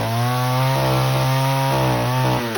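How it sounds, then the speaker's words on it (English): A chainsaw cuts through wood resting on a plywood and scrap sawhorse during storm cleanup, engine droning loudly and close with pitch shifts as the chain bites and eases. "Don't jam the saw."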